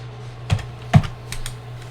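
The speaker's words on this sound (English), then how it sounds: "I'm going to get this typed in" Several scattered keystrokes on a computer keyboard, a few clicks spaced irregularly over a steady low hum, fairly quiet and close with no talking.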